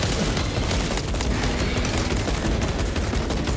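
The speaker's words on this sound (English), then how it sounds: "throwing a mountain of bullets down a passageway at a horde of enemies" Dense, continuous automatic gunfire from the video game Space Marine 2, a loud unbroken fusillade of rapid shots pouring down a passageway at a horde of enemies, with no talking.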